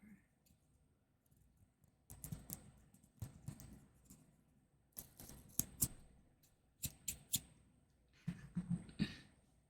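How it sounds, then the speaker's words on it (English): Scissors snip through a small extra piece of paper close to the microphone, giving a few sharp clicking cuts in bursts, with quieter handling sounds between them. "I have to cut this little extra piece of paper."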